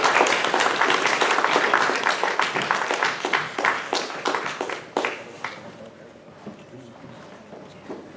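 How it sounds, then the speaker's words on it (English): A school award ceremony audience claps for prize winners, loud and dense at first, then thinning into scattered claps and fading out toward the end. "Big round of applause."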